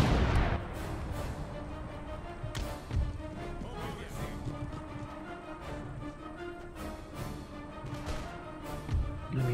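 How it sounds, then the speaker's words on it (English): Hand mortars and musket fire in an Empire: Total War battle, a steady clatter of gunshots and dull blasts layered over a dense, continuous rumble of battlefield noise. "Oh, hand mortars."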